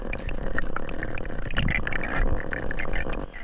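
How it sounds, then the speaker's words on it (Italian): Air slowly leaking from a diving mask underwater in rough, cold March sea, a continuous close bubbling and gurgling burble with muffled underwater rumble, loud and steady throughout. "Quel rumore fastidioso che sentite è l'aria che esce lentamente dalla maschera"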